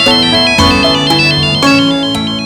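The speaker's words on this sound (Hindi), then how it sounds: "ये तो राघव जी के पापा का फोन है।" A loud electronic phone ringtone plays a repeating melodic pattern, cycling about every second, with no voices.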